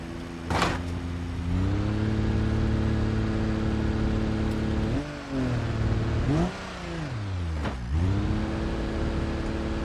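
A car engine in the offroading video game BeamNG.drive hums steadily, then revs up and drops back several times in sharp swells, loud and close, with no talk.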